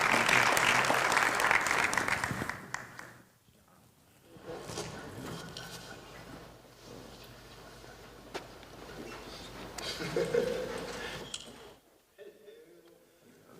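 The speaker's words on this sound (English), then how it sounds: "if we can give these folks a round of applause." An audience at a mental wellness event gives a short round of applause that fades within a few seconds, followed by a speaker talking with quieter room noise and scattered bumps.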